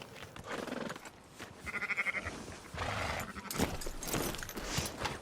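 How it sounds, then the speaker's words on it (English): Several sheep bleat in a herd being rounded up in the Western video game Red Dead Redemption 2, with repeated calls over faint hoof clatter and outdoor ambience, at moderate distance and with no talk. "We've just bagged ourselves a herd of sheep, well, once we round them all up."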